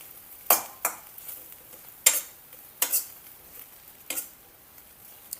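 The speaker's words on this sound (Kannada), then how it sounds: "ಬ್ರೆಡ್ ಆಗಲಿ ಡ್ರೈ ಫ್ರೂಟ್ಸ್ ಆಗಲಿ ಒಂಚೂರು ತುಪ್ಪದೊಳಗೆ ಫ್ರೈ ಮಾಡ್ಕೊಂಡು ಸಾಕು" Bread pieces frying in ghee over a low flame, heard as a quiet sizzle broken by about six sharp scrapes and clinks of a utensil against the pan, with no talking.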